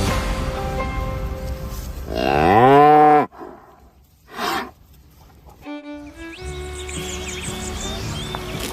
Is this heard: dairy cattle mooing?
yes